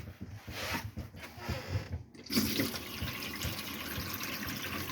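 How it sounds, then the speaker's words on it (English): Warm water runs from the tap into the vanity unit sink of a Bailey Phoenix 760 caravan, a steady close splashing stream at good pressure, with brief gurgles and clicks as the flow starts. "Plenty of pressure at the vanity unit, sink. Yep, warm water coming out through there."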